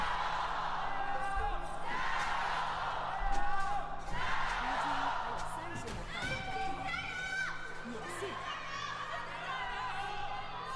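Noisy crowd cheering and whooping fills a large LPL esports arena during a match, a continuous loud roar of many voices with swells and shouts, steady throughout with some talk mixed in.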